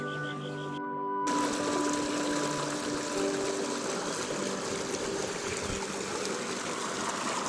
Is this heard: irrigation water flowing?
yes